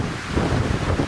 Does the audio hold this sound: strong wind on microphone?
yes